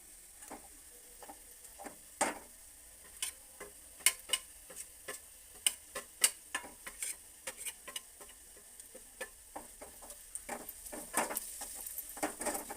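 Ground spices and chilli powder fry quietly in oil on a low gas flame. Scattered small crackles and ticking pops sound over a faint, steady sizzle, with occasional stirring.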